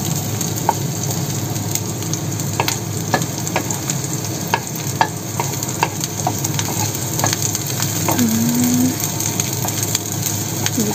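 Garlic sizzles in hot oil in a pan while being stirred, for sautéed eggplant with sardines; a steady close frying hiss runs throughout with scattered spatula scrapes and crackles.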